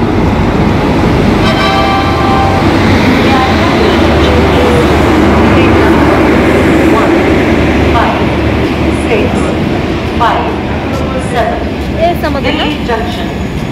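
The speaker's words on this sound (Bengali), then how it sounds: "এই যে আমাদের ট্রেন।" A train pulls in at platform 4 of a railway station: a loud, steady rumble of wheels and carriages with faint high squeals, continuous for the whole stretch, with voices in the background.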